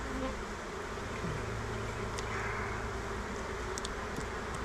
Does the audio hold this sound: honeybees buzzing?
yes